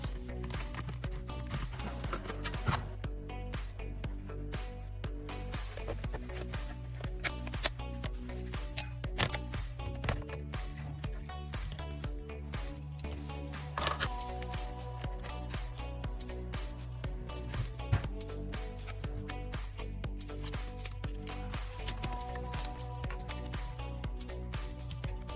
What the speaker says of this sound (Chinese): 接下来我们准备维修，拆开机器，我们把镜头打开看一下什么情况。